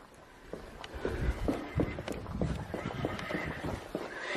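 A toy horse whinnies over a clip-clop of hooves, moderately loud and continuous, with a few sharp clicks along the way.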